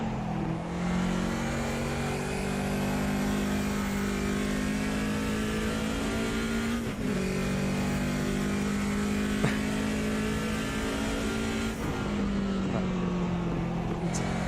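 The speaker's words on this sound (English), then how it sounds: "Definitely more of an emphasis on the turbo sounds with the 2002." A BMW 2002 Turbo in the Automobilista 2 racing sim accelerates with a loud, sustained engine drone and turbo whine, pitch climbing steadily with a couple of brief dips at gear changes, close and continuous.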